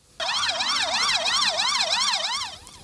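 A loud, steady emergency siren wails up and down in a fast, regular rise-and-fall pattern, sounding close and continuous before fading slightly at the end.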